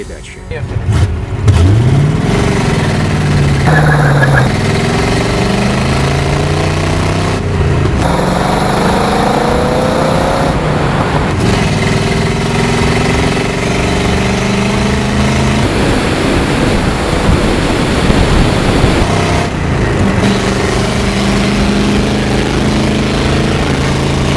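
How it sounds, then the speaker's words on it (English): A car engine pulls hard from first gear up toward 100 km/h, its loud tone rising and falling through repeated gear-change sweeps over about 24 seconds, with people talking over it. "It reached 100 km per hour in 19 seconds, starting in first gear."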